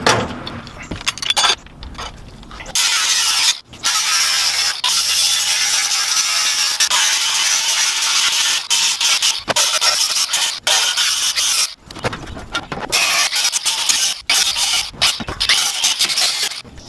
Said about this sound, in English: We're going to be cleaning it up with a flat wheel.